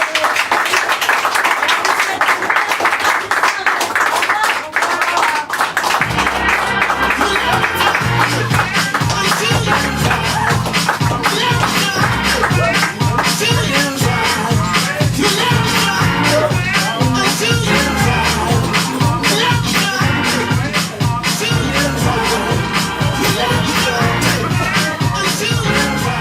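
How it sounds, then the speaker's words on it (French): An audience at a show applauds loudly, a thick wash of clapping that carries on as music with a steady, pounding beat starts up after a few seconds and continues beneath it. "on peut vous applaudir très fort"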